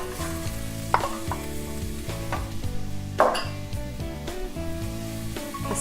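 Onions and carrots sizzle in oil in a pan for a lentil and vegetable soup, a steady close frying hiss with a couple of sharp clinks of utensils against the pan, while music plays underneath.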